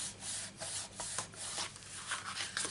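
Paper is rubbed hard by hand to crease and form a handbag-shaped tissue box, producing close, uneven scuffing and rubbing strokes with no talking.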